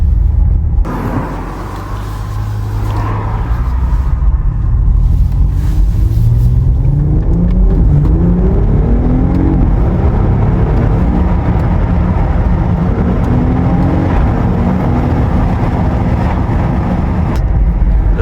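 A powerful BMW car accelerates hard on an icy road with repeated wheelspin, its engine loud and rumbling close by, the pitch rising and falling across several throttle pushes without speech.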